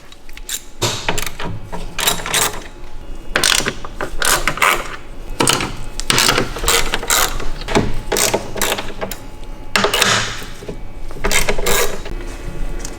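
A ratchet loosens 13mm bolts on the carbon fiber brace of a BMW F30/F80/F82, in a quick series of loud, close clicking bursts separated by short pauses, with no voices.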